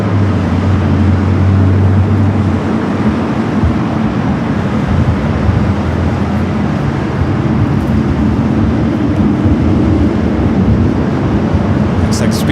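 Singapore Airlines heavy jet taking off from LAX runway 24 left, a broad steady roar of engine noise at constant loudness throughout, with a low hum fading early on.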